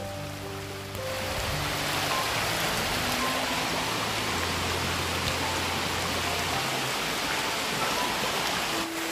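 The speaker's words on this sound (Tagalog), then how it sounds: "Lumakas na yung ulan." Heavy rain pouring down outdoors as a loud, steady wash of noise that swells after the first second and holds constant, with faint musical tones underneath.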